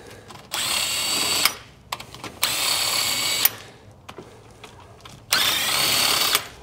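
A pneumatic impact gun backs out loosened head bolts during a head gasket replacement on a Bennche/Massimo/Odes/HiSun side-by-side, with three long, steady, close whirring bursts and short breaks between them.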